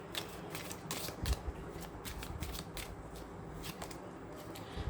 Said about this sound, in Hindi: और 2 कार्ड्स ले लूँगी मैं यहाँ से।